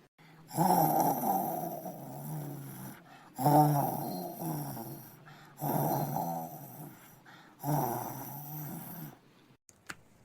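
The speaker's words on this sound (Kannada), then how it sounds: "ಈಗಲೇ ಗೊರಕೆ ಹೊಡಕ್ಕೆ ಸ್ಟಾರ್ಟ್ ಮಾಡಿದಾಳೆ" A woman snoring in four long, loud rasping breaths, each rising then cutting off with short pauses between, close and steady in a quiet room.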